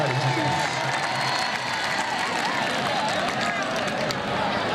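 Crowd clapping and cheering at an open kabaddi match between Narowal and Faisalabad, a steady dense roar of applause and voices filling the whole stretch, with chanting and calls mixed into the noise.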